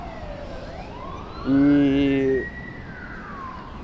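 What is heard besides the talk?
fire truck and ambulance sirens passing nearby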